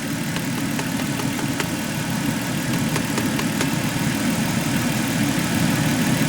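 A car's heater blower motor runs with a steady, close, even whir and hum that holds without a break and does not cut out.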